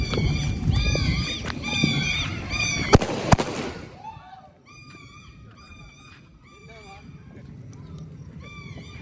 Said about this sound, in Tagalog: Nakakailang paputok na eh.